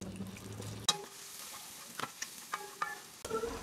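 Onion frying in oil in a pan, a faint sizzle with scattered stirring clatters and sharp utensil knocks, close and quiet.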